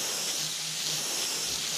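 A steady airbrush hiss sprays paint in repeated passes for ghost flame artwork. It sounds close and even throughout, with no break in the flow.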